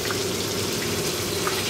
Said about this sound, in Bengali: এখানে দেখো মাছ ভাজা হচ্ছে